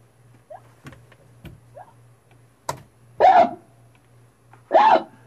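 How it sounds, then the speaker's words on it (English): Two short, sharp hiccups stand out against a quiet background with a steady low hum, preceded by a few faint clicks and small vocal gulps. "He's got hiccups bad."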